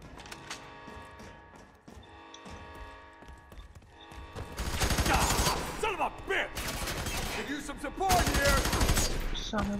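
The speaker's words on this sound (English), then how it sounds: "Shotgun." Shotgun blasts in the video game F.E.A.R. 3, heavy bursts of gunfire in quick succession mixed with game action noise, loud and close.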